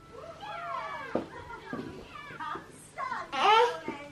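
A kitty meows several times, with rising and falling calls sitting close to the microphone, while an adult speaks softly around it and a toddler is also heard.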